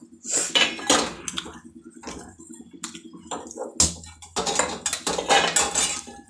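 A metal kadai and utensils clank on a gas stove in a home kitchen, with sharp, irregular metallic knocks and scrapes coming in close, loud bursts separated by short pauses.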